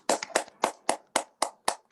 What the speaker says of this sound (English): give Emily and Amber a round of applause for the presentation tonight